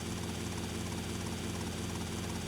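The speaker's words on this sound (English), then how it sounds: "Is this a helicopter which can shoot?" Helicopter in the video game GTA Vice City, its rotor and engine giving a steady, loud, close drone with rhythmic blade chop that runs throughout without letting up.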